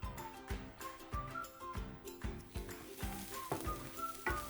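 Onions frying in rapeseed oil in a pan for a cottage pie, with a steady sizzle broken by repeated stirring clatters at a fairly even rhythm, close and moderately loud, with no talking.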